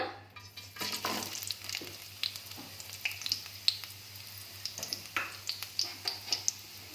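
Chopped onions fry in oil in a pan for an okra curry, a soft continuous sizzle broken by repeated scraping stirs and light clicks of a spoon against the pan.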